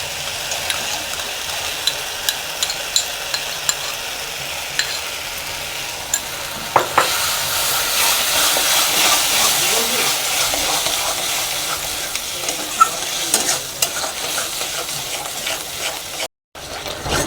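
Whisked yogurt sizzles in spiced oil in a pan for doi katla, a steady close frying hiss with scattered clicks of a spoon stirring, swelling louder midway.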